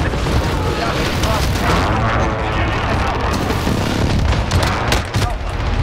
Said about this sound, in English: Alliance precision airstrike in.